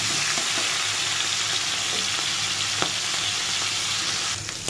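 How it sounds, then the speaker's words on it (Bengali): Shrimp sizzles in hot oil for a Bengali pui chingri dish, a loud, continuous crackling fry with scattered pops and spits that eases slightly at the very end. "তেল গরম হয়ে গেছে, অল্পই দেবো চিংড়ি মাছটা।"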